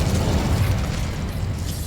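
A fiery Incendio spell burst in Hogwarts Legacy, a loud dense roaring whoosh with deep rumbling low end that fades slightly over two seconds, with no voices.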